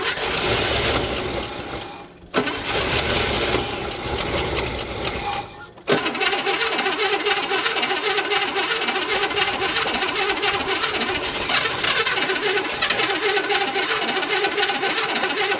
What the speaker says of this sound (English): It's acting like it wants to idle.